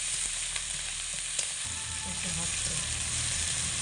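Potato and paneer with salt and ginger paste sauté on low heat in a pan, giving a steady soft sizzle with faint stirring scrapes throughout.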